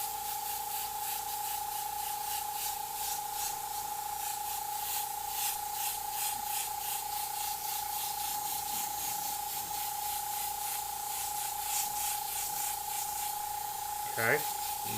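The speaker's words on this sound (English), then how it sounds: "I'm just taking care of that outer overspray with this orange yellow." Airbrush spraying orange-yellow paint over a fire and skull design, giving a continuous soft hiss with a faint steady compressor hum underneath and no break throughout.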